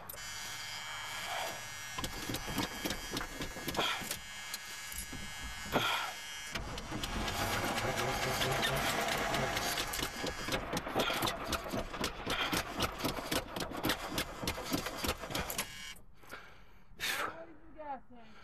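A classic station wagon engine cranks over repeatedly and then catches in a cold start, sputtering and buzzing unevenly before settling into an idle, with people talking nearby.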